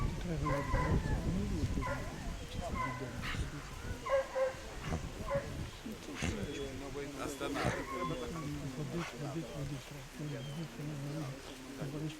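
Several Russian hounds yip, whine and bark in short, excited bursts at moderate distance in Chernihiv, with people talking over them.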